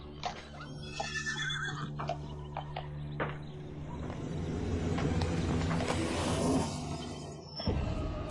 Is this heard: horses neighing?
yes